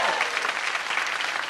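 Audience applause welcoming a guest onto a comedy show stage, a dense, steady wash of clapping that stays loud and even throughout without pause.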